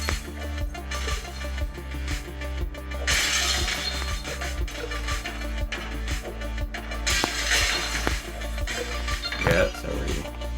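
Glass panes shatter repeatedly in the video game Smash Hit, bright crashing bursts over a thumping electronic soundtrack with steady low beats, moderately loud.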